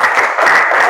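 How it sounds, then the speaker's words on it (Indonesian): A group of people claps for a student group during a classroom session, with a dense, loud burst of applause that stays even throughout the short moment. "tepuk tangan untuk kelompok 6."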